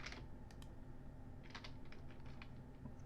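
Faint clicking of keys on a computer keyboard in short scattered bursts over a steady low hum, distant and quiet.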